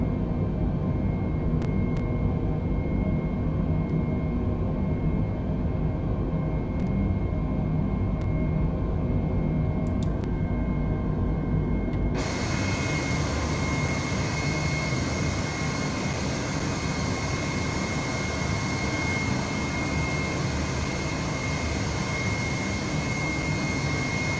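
Simulated Airbus A320 jet engines in Microsoft Flight Simulator spooling up, a loud continuous roar that jumps abruptly to a brighter, fuller whine midway and holds steady.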